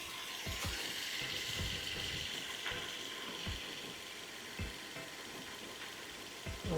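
A ratchet tightens the transmission drain plug on a 2009 Range Rover while the engine idles nearby, with a few quiet ratcheting clicks against a steady mechanical hum.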